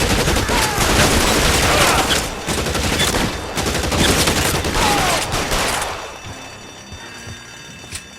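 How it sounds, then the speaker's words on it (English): Heavy suppressing gunfire in a building shootout, dense rapid bursts of shots that are loud and continuous for about six seconds before cutting off to quiet room tone. "I'll lay down some suppression fire."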